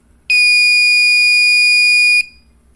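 An electronic buzzer driven from pin D6 of an ESP32 board sounds one loud, steady, piercing tone for about two seconds, starting and stopping abruptly, with quiet background between.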